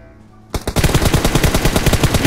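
PUBG Mobile gunfire: after a short lull, a rapid automatic burst erupts, loud and close, with rhythmic repeated shots continuing steadily to the end.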